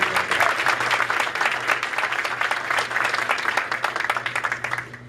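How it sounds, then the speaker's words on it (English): A crowd gives sustained, dense applause at a ceremony opening a new indoor firing range, many hands clapping at once from a moderate distance for several seconds before beginning to taper off. "join me in giving them a round of applause"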